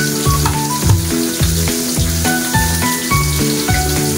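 Steady sizzling of food frying in a pan, loud and close, with faint rhythmic tapping and clinks throughout.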